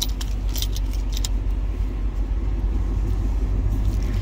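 Keys jingle and clink in bright repeated bursts over a steady low engine rumble from an idling 2011 Ford Mustang Shelby GT500.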